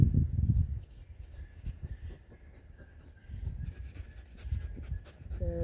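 Young puppies pant and scuffle while playing close by, giving rapid rhythmic breathy puffs and soft thumps in several bursts, with quiet gaps between them.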